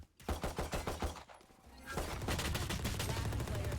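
Wall-bang gunshots in a VALORANT match: a quick string of about eight sharp, evenly spaced shots, then a brief lull before a louder, denser rattle of rapid fire.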